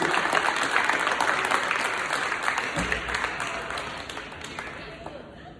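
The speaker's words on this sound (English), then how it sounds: "So can y'all clap it up for Enrico Williams, please?" A middle school leadership ceremony audience claps for a student, a broad wash of applause with scattered louder claps that gradually fades over several seconds.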